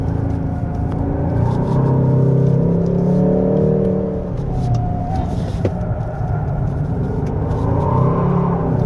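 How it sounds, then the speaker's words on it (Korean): Hyundai Sonata N Line 2.5T accelerating hard through a winding mountain road with one front wheel spinning, a steady loud engine drone and whirring rumble heard from inside the cabin. "이 소리가, 이 가속할 때 한쪽 바퀴만 헛도는 거"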